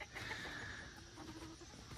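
Chickens clucking at a farm near a brooder, a steady murmur of hen calls with one drawn-out tone, continuous and fairly quiet throughout with no talking.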